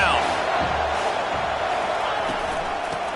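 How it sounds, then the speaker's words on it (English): A college football stadium crowd roars during a third-down defensive stand, a loud sustained wash of cheering and whooping that stays steady throughout. "Decibels rising as the crowd gets behind this defense on 3rd down"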